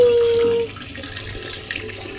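Water runs from a tap or shower while a dog is being bathed, a steady splashing flow that starts loud and then settles lower, with a brief tone at the start and faint background sounds.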